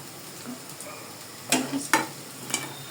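Aloo pakoras frying in hot oil give a soft, steady sizzle, broken by a few sharper stirring or scraping sounds in the pan; no voices.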